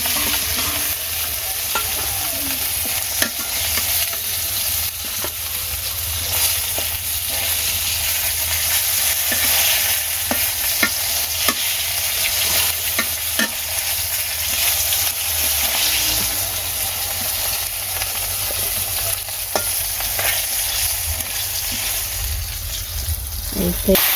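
Fish frying in hot oil in a home kitchen pan, a continuous loud sizzle with occasional stirring scrapes and taps, close up throughout.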